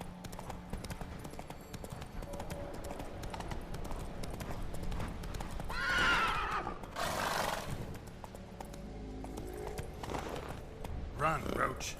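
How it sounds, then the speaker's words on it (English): A horse gallops in The Witcher 3 video game, with steady clip-clop hoofbeats throughout and a loud whinny partway through, set against game ambience. "Run, Roach."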